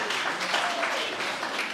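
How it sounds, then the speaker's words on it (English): An audience at a community mental health and wellbeing launch breaks into a dense, continuous round of applause for a woman called up front, with voices mixed in beneath the clapping. "Give her a big round of applause."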